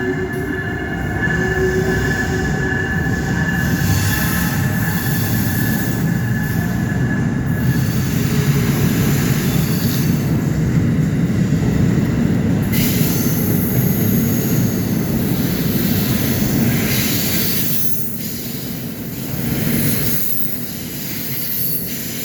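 An Amtrak Cardinal passenger train rumbles steadily into a station, loud and continuous, with high metallic wheel squeal and faint hiss near the end.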